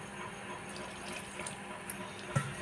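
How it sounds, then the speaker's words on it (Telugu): Warm water is poured into wheat flour to make dough for sweet bobbatlu, a soft steady trickle with a small splash near the end, heard alone and fairly quiet. "కొద్దిగా గోధుమ పిండి వేసుకొని కాసిన నీళ్ళు పోసుకోవాలి."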